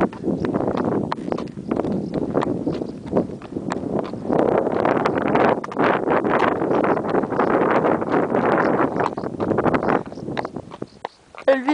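Horse hooves clip-clopping at a steady walking rhythm while riding past farm fields, under gusty wind noise on the microphone, with no talk.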